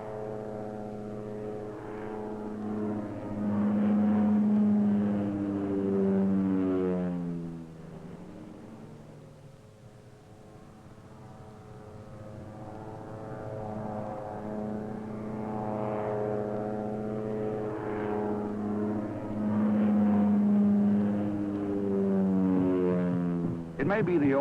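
A propeller airplane flies overhead during the war in Laos, its loud, droning engine note rising and falling as it passes, swelling twice and easing in between.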